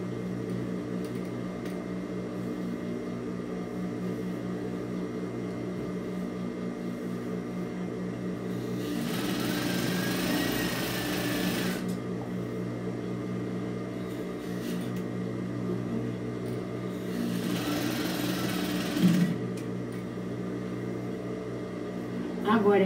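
A sewing machine stitches along the seam of a fabric microwave towel in two short runs over a steady background hum, while someone talks throughout.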